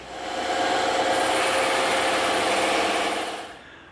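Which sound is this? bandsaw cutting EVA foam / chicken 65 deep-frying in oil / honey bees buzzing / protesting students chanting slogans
bandsaw cutting EVA foam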